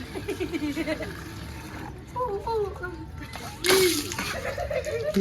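Water splashes during outdoor Holi play, with a sharp burst partway through over constant chatter and children's voices.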